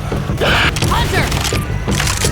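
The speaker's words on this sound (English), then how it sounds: "Reloading! Reloading." A weapon is reloaded in the video game Left 4 Dead 2, with mechanical clicks and rattles over a steady rumbling game soundscape while voices call out nearby.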